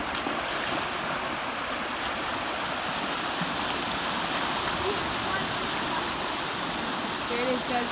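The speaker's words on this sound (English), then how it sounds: "We are at the waterfall." A waterfall on a flooded creek pours fast, high water in a steady, loud broadband roar that holds unbroken from start to finish.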